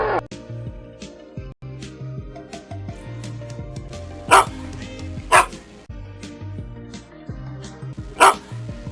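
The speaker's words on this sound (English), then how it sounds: "This is a dog." A few sharp, separate dog barks ring out over a steady bed of background music, loud and close, spaced irregularly.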